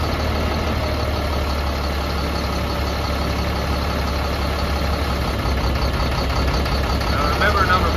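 Caterpillar C7 diesel engine idling during a cylinder cutout test, a steady low rumble that continues without pause and close throughout, with a faint high electronic whine above it.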